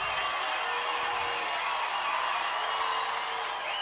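A football crowd at Northeast High School roars steadily on a Father Judge sideline, a sustained wash of cheering and shouts that stays loud and fairly even throughout.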